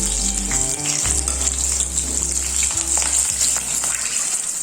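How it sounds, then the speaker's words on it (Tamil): Cauliflower chilli fries loudly in hot oil with green chillies and curry leaves, a steady close sizzle running throughout with occasional stirring scrapes and no talking. "இப்போது இதில் பச்சை மிளகா கருவேப்பிலை மேலே போட்டு கொஞ்சம் பொரியட்டும்"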